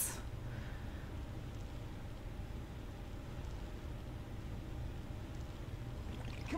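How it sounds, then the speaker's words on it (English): Subtle rain ambience in the video game Sonic Adventure forms a soft, even hiss with a low rumble that holds steady throughout, faint and continuous, with no voices. "I like that rain, though. Very subtle."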